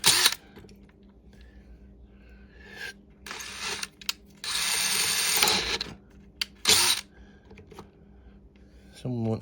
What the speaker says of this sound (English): It's a brand new drill, so it's not mucking about. It's going straight in, dragging me in.